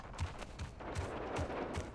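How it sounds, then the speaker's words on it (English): Cyclone weapon in the Spectre Divide shooter, fired in a quick run of about six punchy shots at an even rhythm, close and fairly loud. "This is a really bad long-range weapon, the Cyclone."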